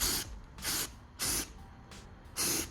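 Gray filler primer spray-painted onto a car wheel in five rhythmic aerosol bursts, each a close, loud hiss separated by short pauses.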